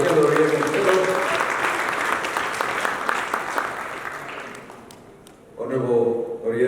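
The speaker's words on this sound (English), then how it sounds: "another round of applause for the Honorable Fellow." Audience applause at a Uganda tourism trade and investment forum in Dubai, a broad steady clapping that fills the room for several seconds, fades, then swells again near the end.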